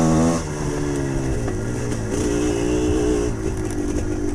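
A GPX TSE 250R motorcycle is ridden on a rough, freshly cleared trail with stumps, mostly in third gear. Its engine roars loud and close, the pitch dropping after a quick gear change and then wavering as the throttle rises and eases.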